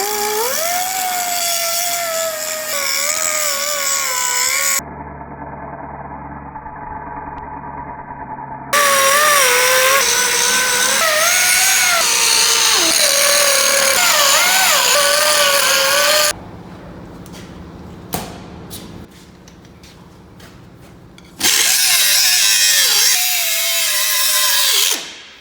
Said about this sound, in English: All we need to do, grind those cracks out